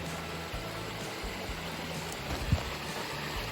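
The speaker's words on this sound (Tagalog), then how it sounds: "Tumutunog. Parang falls, no? Tumutunog, no?" Clear mountain water rushing steadily like a small falls beside a new road in rural Antique, a constant broadband wash heard alone at moderate level with a faint low rumble underneath.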